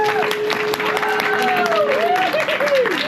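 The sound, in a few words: round of applause for host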